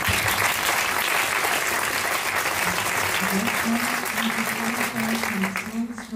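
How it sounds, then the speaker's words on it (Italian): Audience applause at a concert by a symphony band in Lecco, Italy, dense and sustained clapping from a large crowd, with a faint voice or tone surfacing under it near the end. "Un grande applauso."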